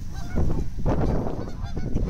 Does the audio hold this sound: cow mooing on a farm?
no